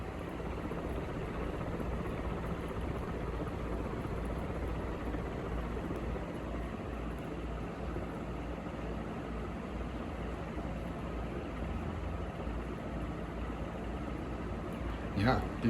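A View Fan 3 ceiling fan with 36-inch metal blades and a low-torque motor runs at speed, giving a steady, airy, metallic whoosh that stays constant and close throughout.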